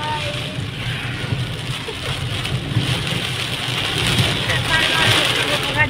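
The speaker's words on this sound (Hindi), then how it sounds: "देखिए गाइस भयंकर वाली बारिश आ चुकी है" Heavy rain pours steadily outside a roadside eatery, a constant hiss under a continuous low rumble, while people talk over it throughout.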